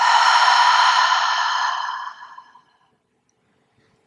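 A long, breathy exhale out of the mouth during a morning yoga breathing exercise, close and clear, fading out after about two and a half seconds into near silence.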